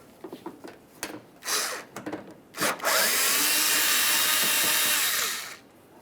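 A handheld power tool with a 10mm socket works bumper cover bolts on a 2007-2013 Acura MDX: a few short clicks and bursts, then a loud continuous whir of about two and a half seconds, close by.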